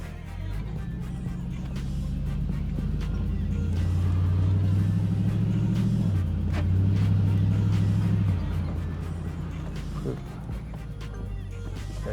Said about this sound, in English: Take it for a quick spin around the block.